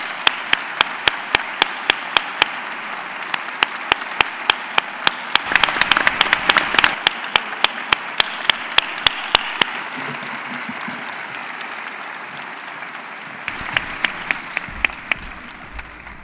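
Applause at a university graduation ceremony in Córdoba for an honoured guest, a long burst of hand clapping from an audience that swells in the middle, thins out, then rises briefly again near the end.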